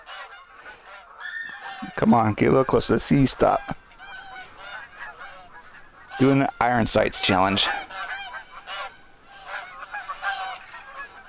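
Geese honking in a loose flock out in the open during a hunt, several loud nasal calls clustering in two noisy bursts, while someone talks quietly nearby between them.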